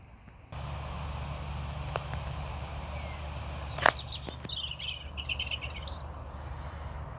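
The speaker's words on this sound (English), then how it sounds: "Well, the birds are starting to sing, which is always good news." Birds sing at dawn beside a carp fishing lake, with scattered chirps and a brief bright burst of song over a steady low background hum, fairly close and without talk.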